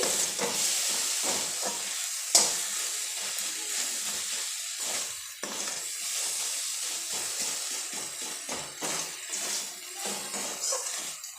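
Tomato paste is stirred into sidol chutney frying in a pan, giving a close, continuous sizzle and hiss broken by repeated scraping stirs and occasional sharp knocks of the spoon, with no one speaking.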